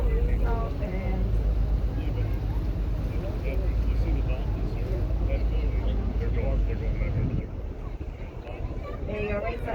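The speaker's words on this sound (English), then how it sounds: "Working on spinning the boat around here, guys." A dolphin cruise boat turns around on the water, its engine and wind rumbling steadily throughout while people talk over the noise.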